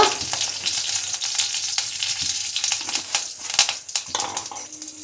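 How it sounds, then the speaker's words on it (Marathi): Sprouts sauté in hot oil with curry leaves and asafoetida, crackling and spitting continuously in close, busy bursts of sizzle. "थोडंसं हलकंसंच परतून घ्यायचं तेलामध्ये"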